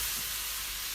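Vegetables frying in a pan for a stir fry, giving a continuous bright sizzle and hiss throughout the short stretch.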